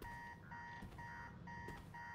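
A steady electronic alarm clock beeps on and off in repeating bursts inside a scientist's empty lab in Marvel's Spider-Man 2, held at a moderate, constant level with no voices over it.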